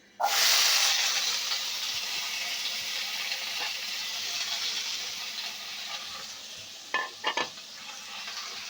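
Cut and washed potatoes and papaya hit hot oil tempered with cumin, bursting into a loud sizzle that settles into steady frying hiss, with a few stirring clatters near the end.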